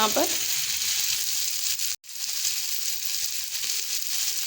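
Onions frying in a pan for a breakfast egg dish, a steady hissing sizzle close by with a brief stir at the start and a short break midway.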